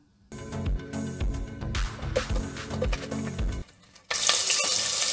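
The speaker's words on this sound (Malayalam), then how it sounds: "നമുക്കിനി അരിഞ്ഞു വെച്ചിരിക്കുന്ന സവാള ഇതൊന്ന് വറുത്തെടുക്കാം" Sliced onions fry in hot oil for chicken biryani, a steady dense sizzle running close and loud throughout, dipping briefly before a harsher burst of crackling near the end.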